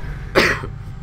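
A single sharp cough, close and fairly loud, bursts out against a low steady background hum and fades after about a third of a second.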